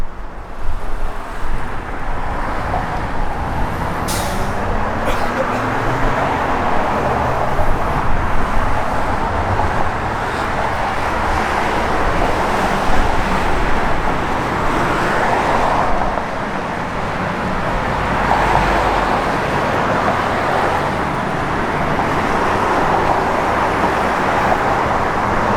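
A 1964 Chevrolet Malibu convertible with a big aluminum radiator and electric fan cruising down a road, giving a steady wash of road and engine noise with wind buffeting, fairly even in level throughout with no talk.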